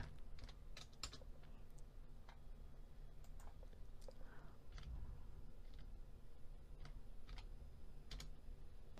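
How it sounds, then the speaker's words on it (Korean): Computer keyboard being typed on during accounting data entry, with quick close clicks and occasional firmer presses of the enter key and space bar, spread in an irregular rhythm across a quiet room. "엔터. 스페이스바 누르시고요. 엔터."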